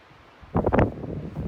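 A sudden gust of wind on a mountain in the Rockies hits the microphone with a brief rumbling burst, then settles into a softer continuing bluster.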